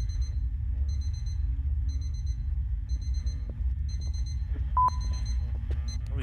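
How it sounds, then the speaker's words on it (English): Ghost-detection device in the video game Obsideo, giving a repeating pattern of short high electronic beeps at an even pace, faint over a low background rumble. "If the ghost touches it, you'll see it red lights the top flash and you'll hear a beep."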